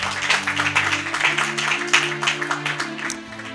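A church congregation applauding, a dense wash of clapping with a low sustained tone from an organ or keyboard beneath, steady and then tapering off slightly at the end.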